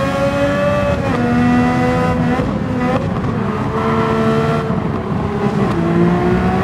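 Race car in Gran Turismo 7 sliding out of a corner, a loud, continuous engine drone with shifting pitch and a light tire skid running underneath, no voices.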